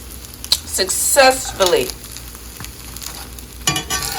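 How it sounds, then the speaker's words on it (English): Pancakes frying in a home kitchen pan, with a steady sizzle running underneath and bursts of brief handling noise and voices over it. "made some pancakes that I fried."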